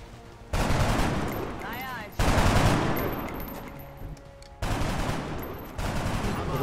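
Sustained suppressing fire in the XCOM strategy game, coming as loud bursts of automatic weapon shots in several separate waves with short gaps between them, with some game effects mixed in.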